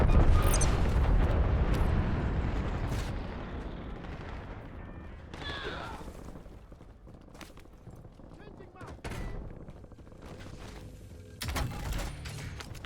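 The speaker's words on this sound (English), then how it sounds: "Release napalm strike on my mark." Napalm strike explosions in the Warzone video game: loud, rumbling blasts and crackling bursts of gunfire-like noise, strongest at the start, then fading into a continuous roar with sharper hits near the end.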